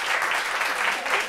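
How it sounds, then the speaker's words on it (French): Dense, steady audience applause at a gathering, a loud continuous wash of many hands clapping close by, with no individual claps standing out and no talk heard over it. "Applaudissez pour ça, applaudissez pour ça."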